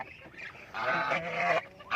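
Goose honking near a nesting box, a few loud nasal honks in quick succession, close by and alone with no talk.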